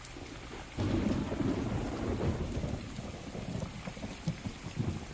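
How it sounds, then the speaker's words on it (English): A heavy thunderstorm with driving rain, rumbling thunder rolling in under a dense, steady downpour that swells loudly after the first second and keeps pounding on the ground without pause. "A good storm can ruin our day and even threaten our homes."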